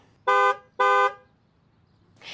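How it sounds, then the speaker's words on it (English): Two loud, sustained car horn blasts, each about a quarter second long, separated by a short gap, followed by faint background noise. "Yes, it's a car horn."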